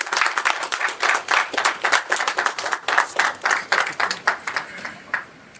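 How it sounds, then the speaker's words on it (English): Applause at a Toastmasters club meeting for the club president, Kaushal Deo: a small group clapping briskly and fairly close, steady for several seconds before trailing off. "So I would like everyone to give a big round of applause to our president"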